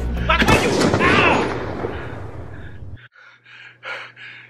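A single loud gunshot bang at the start, fading into a long rumbling decay, followed by a gasping, breathy voice reacting.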